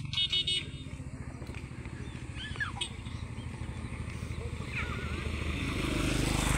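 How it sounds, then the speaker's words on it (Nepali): A motorcycle approaches from behind on a road, its engine drone growing steadily louder over several seconds, with a brief horn toot and faint background chatter. "बाइक आछ है पछाडि बाइक आछ।"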